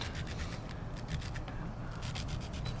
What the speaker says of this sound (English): Take my brush and just slightly rub it